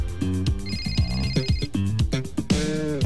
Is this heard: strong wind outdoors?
no